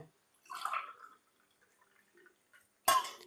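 Blue tea poured into a glass, heard as two short bursts of splashing liquid with a separate clink near the end and quiet gaps between.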